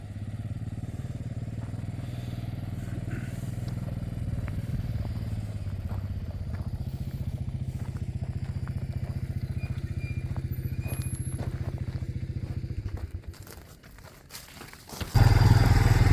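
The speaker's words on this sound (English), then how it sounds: "She's going to ride the 4-wheeler back to the house." A farm 4-wheeler rides back toward the house, its engine a steady, close, rumbling drone with clatter over it that fades toward the end before a loud thump closes.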